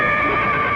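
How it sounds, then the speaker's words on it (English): A horse whinnies loudly and close by, a single sustained neigh filling the short moment with no talking. "I thought I heard a horse."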